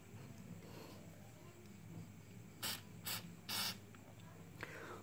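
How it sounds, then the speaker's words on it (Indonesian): Carburetor cleaner sprayed onto a rusty brake caliper piston of a Suzuki Satria FU disc brake, in three short, close hissing bursts over a quiet background. "Teman-teman sering aja di sini disemprot"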